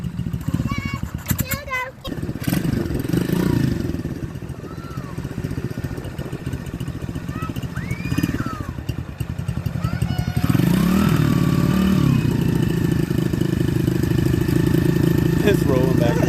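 A motorcycle engine runs steadily after firing up, idling with a rough, bogging tone and a slight rise in revs partway through, loud and close throughout.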